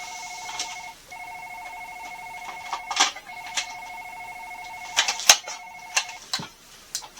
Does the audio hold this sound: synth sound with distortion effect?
no